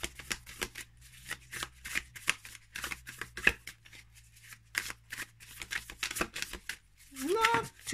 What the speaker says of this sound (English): Let's try overhand shuffle.